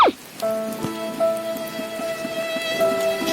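Steady rain falls during an outdoor parcel delivery run, a dense even patter running throughout with a sustained tonal hum underneath. No voices.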